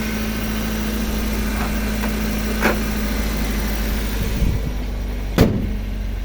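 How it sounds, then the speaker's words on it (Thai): A Toyota Corolla Altis 1.6-litre engine idles smoothly and steadily at close range, with a low constant hum and a few faint clicks. "เครื่องยนต์เดินเรียบมากนะครับ ไม่มีสะดุดเลยนะครับ"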